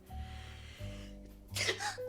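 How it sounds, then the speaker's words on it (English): A single short sneeze bursts out near the end, preceded by low humming background sounds. "I didn't mean to sneeze."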